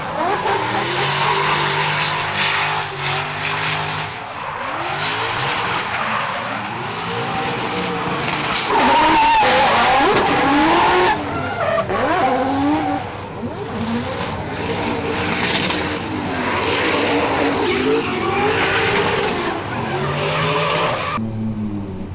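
A race car held in third gear drifts around a track, its engine roaring steadily while the tires squeal and skid almost continuously at close range, loud and sustained, with no talking.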